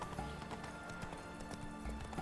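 Horse hooves clip-clopping in The Witcher 3: Hearts of Stone video game, a steady close trotting rhythm with a faint whinny and soft background ambience.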